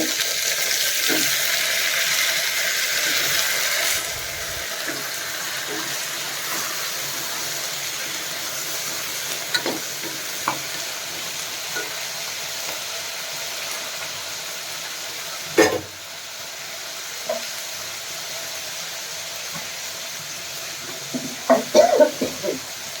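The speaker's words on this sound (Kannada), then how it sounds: "ಈಗ ಇದೊಂದು ಸ್ವಲ್ಪ ಫ್ರೈ ಆಗಲಿ" Cut brinjal (eggplant) frying in a pan, a steady broad hiss running throughout with a few scattered clinks and scrapes from stirring, louder near the start and ending with a small cluster of taps; no one talks.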